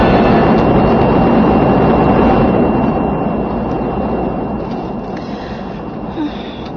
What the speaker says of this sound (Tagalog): Nakalupad na gyud ang gisakyan ng mo eroplano sa akong anak.